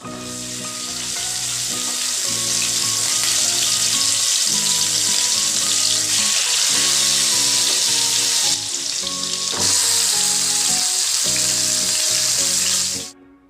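Marinated chicken meat sizzles and crackles loudly in hot oil with tempering spices in a pan, a dense steady frying hiss swelling up and holding strong before cutting off abruptly, with music playing underneath.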